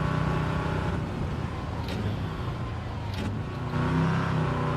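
Engine of a 182-horsepower car in Gran Turismo 7 during a circuit lap, a steady sustained drone with a slight rise in pitch near the end, without talk.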